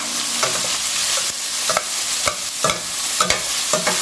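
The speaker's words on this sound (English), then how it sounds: "So I'm adding 2 chopped medium-sized onions." Chopped medium onions fry with a steady sizzle in a pan, punctuated by a series of sharp scraping clinks as a utensil stirs them, up close with no talk.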